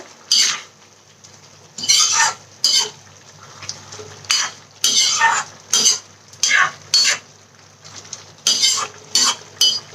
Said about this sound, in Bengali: নারকেল বাটা দিয়ে দিলাম এবং এটা আমি ভালো করে মিশিয়ে